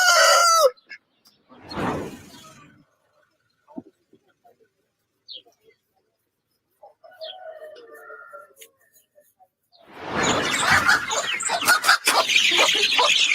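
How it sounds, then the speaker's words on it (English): Black Copper Marans rooster crows and clucks at an agricultural show, with short bursts separated by near silence, ending in a loud, raspy stretch of calls; people speak briefly. "He's actually our black copper Moran rooster."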